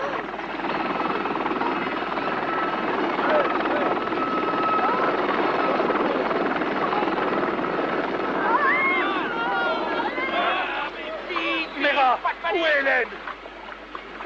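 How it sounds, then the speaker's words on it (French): General Romero's helicopter drones steadily and loudly throughout, with voices talking over it toward the end. "Et c'est son hélicoptère."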